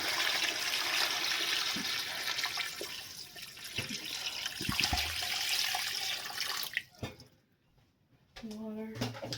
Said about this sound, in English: I go ahead and add my water.